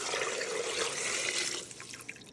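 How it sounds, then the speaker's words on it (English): Water streams into an Instant Pot over chicken bones for broth, a steady soft pouring hiss that tapers into a few faint drips at the end. "Next, fill the pot with enough water to cover the bones."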